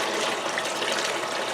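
Water gushes in a fast, steady stream over a gold sluice table, a loud, continuous rushing wash with no break.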